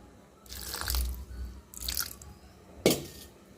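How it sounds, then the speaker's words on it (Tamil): Water is added to a chicken 65 masala mix in a few short, close pours and splashes, with soft wet drips and a sharper splash near the end. "இப்போவும் கொஞ்சம் தண்ணி சேர்த்துக்குவோம்."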